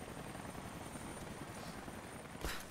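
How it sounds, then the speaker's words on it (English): Steady, dense rotor thrum of a helicopter in the Tomb Raider video game, continuous and loud throughout, ending with a brief sharper burst of noise. "Oh my god, that is an amazing chopper."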